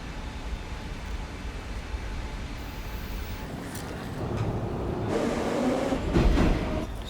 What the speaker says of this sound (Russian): Ну а теперь в Москву на Аэроэкспрессе.